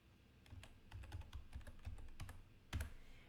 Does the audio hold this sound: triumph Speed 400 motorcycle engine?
no